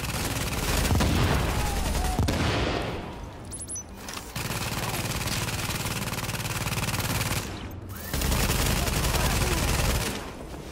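Bursts of gunfire in a Tom Clancy's The Division firefight, dense rattling volleys in two long stretches broken by a short lull, loud and close with no talk over them.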